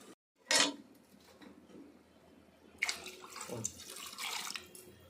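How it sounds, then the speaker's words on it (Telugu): Water splashes briefly, then after a pause pours in a longer, fuller gush into a cooking pot, three small vessels' worth, close and moderately loud in a quiet room. "మూడు లోటాలు నీళ్ళు పోసుకోవాలి"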